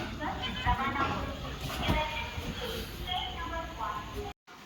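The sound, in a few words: train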